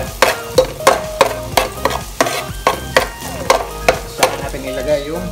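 Onion and garlic sautéing in a pan, a loud sizzle broken by regular, rhythmic spatula strokes scraping and knocking against the pan, close up and with no voices.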